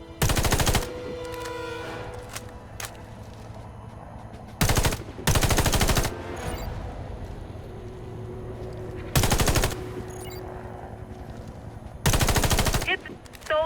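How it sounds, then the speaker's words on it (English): Rifle fire at targets in a video game comes in four short, loud bursts spaced several seconds apart, with quiet game ambience and faint clicks between them. "Attach a scope to your rifle. Scopes offer greater aiming precision at longer ranges. Hit the targets aiming through your scope."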